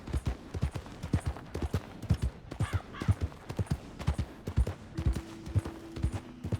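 A mangy stallion's hooves clip-clop steadily across the ground in Red Dead Redemption 2, a regular, fairly loud rhythm of hoofbeats with a brief tonal hum near the end.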